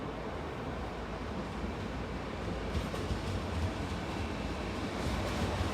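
An LNER passenger train from London King's Cross pulls into Retford station, giving a steady, fairly distant rumble of wheels and carriages that swells slightly toward the end, with no voices.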